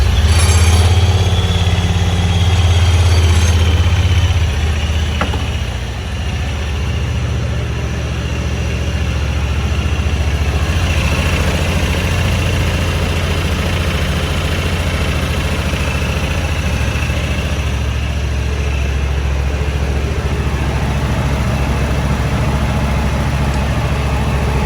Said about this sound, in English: That noise is the fan on the intercooler.